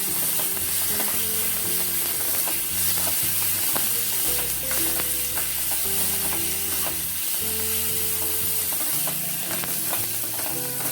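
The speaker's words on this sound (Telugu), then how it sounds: "కొంచెం పచ్చిపులుసు ఫ్రై చేసుకున్నాం" Pachi pulusu with coriander frying in a pan, with a steady loud sizzle and repeated scraping stirs of a spoon or spatula across the metal, no voices.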